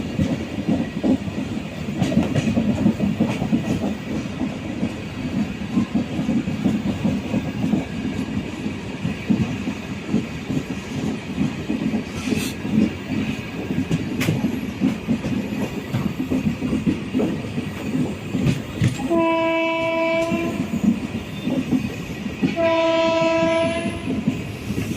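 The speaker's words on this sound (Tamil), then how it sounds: "ஒரு பெரிய ஜன்சதாப்தி எக்ஸ்பிரஸ் தாங்க இது." The Chandigarh–New Delhi Jan Shatabdi Express rolls along with steady rumbling and clatter heard from on board, then sounds two loud blasts of its horn near the end.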